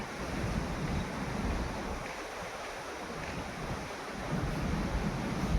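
Strong wind gusts roar continuously through a Gujarat village farm with jamun trees, buffeting the microphone with a low rumble and hiss, steady throughout with no voices.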